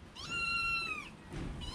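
A cat gives a long, clear, close meow, and then a second meow starts just as the clip ends, over a faint low rustle in a barn setting with no talk.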